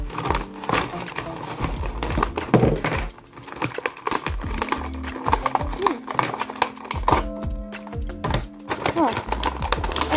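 Paper crinkling and rustling while a Rubik's Cube is unboxed, with irregular close crackles and handling noises, and people talking over them.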